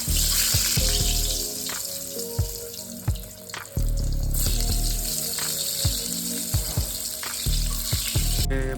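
Eggplant slices frying in a pan in a home kitchen give a loud, continuous sizzle and crackle with occasional sharp pops and clinks, close by and without talk.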